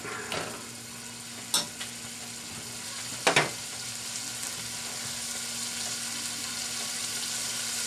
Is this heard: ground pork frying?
yes